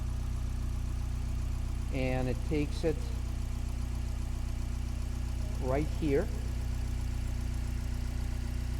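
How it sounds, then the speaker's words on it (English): The rear-mounted engine of a 2018 Oreion Reeper4, its exhaust split into two mufflers, idles with a steady low droning hum while someone talks briefly over it twice. "Look at this cute engine, and it's a very capable engine."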